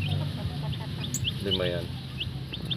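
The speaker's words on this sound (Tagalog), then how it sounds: "Sisiw yan ng Rhode Island." Rhode Island chicks clucking and peeping inside a small cage, brief chirps scattered over a steady low hum, with a person speaking nearby.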